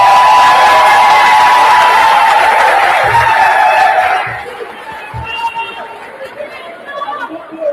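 A ceremonial audience at a Ballon d'Or event applauds and cheers for under-17 tournament champions, a loud crowd roar that fades after about four seconds into murmuring chatter.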